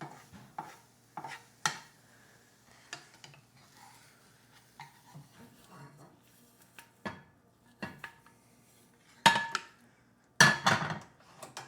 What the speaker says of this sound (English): Just finish up the scrambled eggs here.